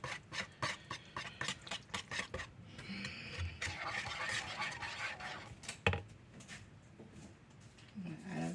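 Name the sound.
whisking cinnamon into a mixture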